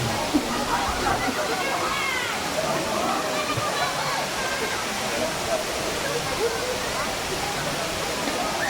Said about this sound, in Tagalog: lakas ng tubig dito